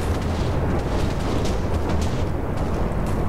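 A nuclear bomb detonates in the Minecraft video game, a loud, dense roaring rumble that fills the whole stretch without letup, like a sustained blast and eruption.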